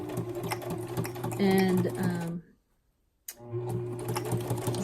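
A domestic sewing machine runs a zigzag stitch along a fabric edge for a zipper pocket insert, a steady mechanical whir that stops for about a second, then resumes; a brief spoken word slips in near the start.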